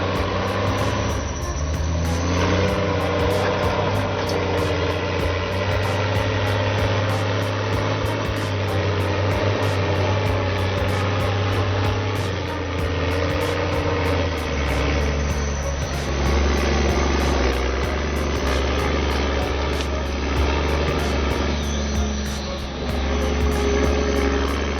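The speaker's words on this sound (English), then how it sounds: "The engine roars, torque at full peak, tearing through the wretched mud and charging forward." A big logging truck's diesel engine roars and labours steadily while pulling free of deep mud after unloading its logs, loud and close, holding a sustained drone with shifting pitch as revs change, no voices.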